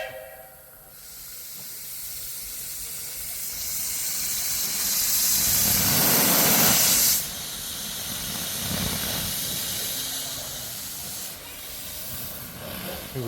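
Steam and traction engines at a charity steam fair hiss as they form up for the cavalcade, the sound building into a loud close blast of steam before easing back to a softer ongoing hiss.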